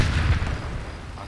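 A grenade bursts in a shooter video game, a deep booming blast that swells at once and then rolls away into a low rumbling decay, loud and near.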